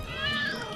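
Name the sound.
cat meowing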